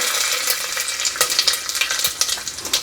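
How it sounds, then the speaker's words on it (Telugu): Peppercorns, mustard seeds and cumin hit hot oil for pongal tempering, crackling and popping loudly up close with a continuous bright sizzle and rapid irregular snaps, no speech heard. "ఇప్పుడైతే ఆయిల్ వేడయింది ఇందులోకి మనం చూసారు కదా దీంట్లో ఏమేమి ఉన్నాయో మిరియాలు మిరియాలు చాలా ఇంపార్టెంట్ మిరియాలు ఆవాలు జీలకర్ర ఉన్నాయి సో ఇవి వేసేద్దాం"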